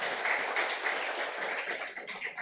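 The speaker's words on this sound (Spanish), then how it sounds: "no quisiera despedirles sin que la audiencia les dé un fuerte aplauso a estos" An audience at a sports forum panel applauds the guests, a dense, steady wash of many hands clapping that holds evenly at moderate volume before thinning slightly at the end.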